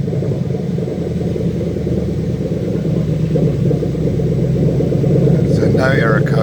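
A Lexus 3UZ V8 engine, fitted with a custom manual swap harness, runs with a continuous deep, even rumble close by, while a voice speaks over it near the end.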